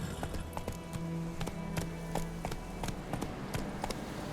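A horse gallops in The Witcher 3 video game, with steady, rhythmic hoofbeats that are clear but faint in the mix and run throughout without talk.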